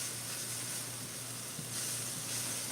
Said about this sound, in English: We're going to caramelize these, bring out their nice little flavor, and then we're going to add in some garlic